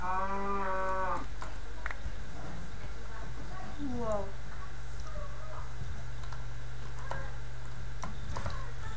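A cow moos in Minecraft, a drawn-out game bovine call at the start and a shorter one later, amid clicking, ticking game sounds and a steady low hum.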